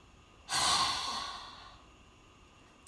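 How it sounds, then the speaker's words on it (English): One lion's breath: a long, forceful exhale out through the mouth, close and breathy, starting loud and fading over about a second, with a quiet nasal inhale just after and no talking. "we inhale through the nose and exhale long and hard out the mouth, sticking out our tongue like a lion or preschooler"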